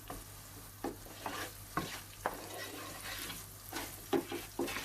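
Rice with lamb is roasted for pilaf in a pan, stirred in irregular scraping strokes and light clatters over a soft sizzle, close up and without talk.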